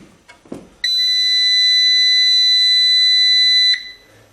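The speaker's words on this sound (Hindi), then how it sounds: "जैसे ही हम अपने इन्वर्टर को ऑन करते हैं तो इसके अंदर से बीप की आवाज आती है" An Inverex Axpert VM 2.2 kW MPPT solar inverter gives a single steady, loud electronic beep of about three seconds on power-up, preceded by a few faint clicks.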